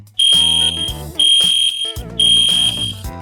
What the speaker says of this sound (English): fire horn